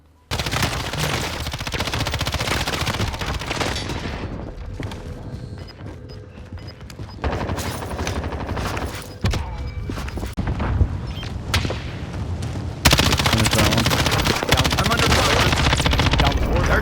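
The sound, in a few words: gunfire in the video game Call of Duty Warzone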